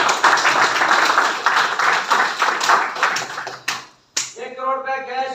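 An audience at a property business presentation claps loudly and steadily for several seconds, then the applause cuts off and a voice speaks.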